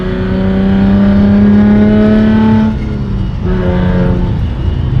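A stock Honda Civic engine in a street race drones loud and close, its steady rising revs humming along, then a dip as the driver lifts off and the engine pulls again.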